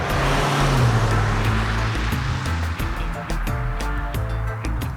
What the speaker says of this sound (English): This is definitely a noisier experience thanks to the wind, road noise, and engine.